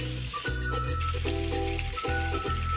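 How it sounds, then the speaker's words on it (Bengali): Pieces of rohu fish fry in hot oil with a constant close sizzle and crackle, broken by a few low clunks from the pan. "মাছগুলোকে বেশ ভালো করেই ভেজে নিচ্ছি"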